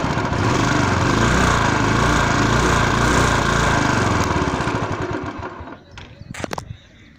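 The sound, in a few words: Royal Enfield Classic 350 motorcycle engine revving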